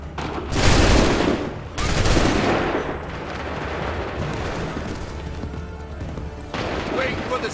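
Musket volley fire in Assassin's Creed III: two loud, dense bursts of overlapping shots in quick succession, then a sustained rumbling crackle of gunfire and battle noise.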